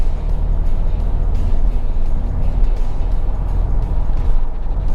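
A diesel Mercedes-Benz E220 CDI W211 facelift on 18-inch AMG wheels drives along a road, giving a steady, loud cabin rumble of engine and road noise that holds evenly throughout, with no talking.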